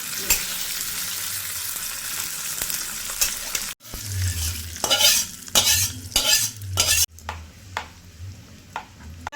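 Curry leaves frying in hot oil with rice, stirred vigorously: a loud crackling sizzle and heavy scraping strokes, with abrupt cuts that leave a quieter, sparser sizzle and occasional clanks.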